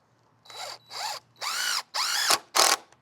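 A power drill drives screws into the framing of a floating deck built on deck blocks, making five separate whirring bursts that rise and fall in pitch, close and loud, with short pauses between them.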